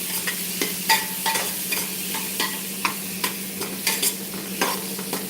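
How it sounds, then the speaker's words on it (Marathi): Finely chopped tomatoes cook over a raised flame in a pan, a constant sizzle punctuated by regular sharp spatula clicks and stirs, close and clear, no talking. "आता गॅसची फ्लेम वाढवायची टोमॅटोला मस्त आता त्याचं शिजू द्यायचं"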